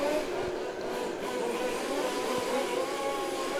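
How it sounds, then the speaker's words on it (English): Radio-controlled Formula One race cars warm up at a European championship finals day, their high whining electric motors forming a steady, continuous buzz with shifting pitch heard from a distance. "semi-final A of the Formula One cars warming up"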